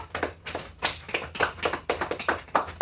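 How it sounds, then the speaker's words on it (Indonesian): A small classroom group claps for another group, giving quick, uneven hand claps and taps in a steady patter that stays close and fairly loud throughout, with no one talking. "Kelompok 1 silahkan berikan aplaus pada kelompok 2."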